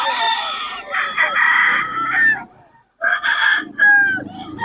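Gamecock rooster of Golden Boy bloodline crowing at a poultry market in Bocaue, two loud drawn-out crows close by, separated by a brief pause.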